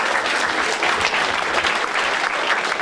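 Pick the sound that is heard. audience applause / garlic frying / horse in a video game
audience applause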